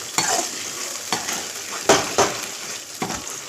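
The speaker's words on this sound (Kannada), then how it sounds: "ಈ ಮಸಾಲನ ನೀಟಾಗಿ ಫ್ರೈ ಮಾಡ್ಕೋಬೇಕು" Ground masala paste fries with onions in a pan while a spoon stirs and scrapes it, a soft sizzle under several sharp scraping strokes at irregular intervals, close and moderately loud.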